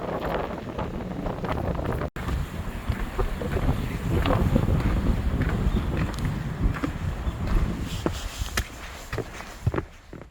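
Strong wind buffets the microphone on a cliffside wooden deck trail above the Geum River in Yeongdong on a snowy day. The rumbling gusts run almost nonstop, with faint footsteps beneath.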